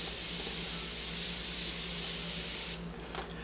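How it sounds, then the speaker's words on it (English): Morphe Continuous Mist setting spray misted over the body, a long, even, close hiss lasting about three seconds that stops abruptly, followed by a brief faint click. "So I'm just gonna go ahead and spray myself all over with that."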